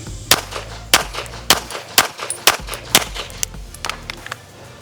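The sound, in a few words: pistol gunshots during draw practice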